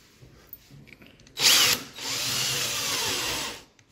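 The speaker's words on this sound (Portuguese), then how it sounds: "E vamos furar ele." A power drill bores out a rivet in the front door of a VW Polo: a short sharp burst, a brief pause, then a longer steady drilling whine up close.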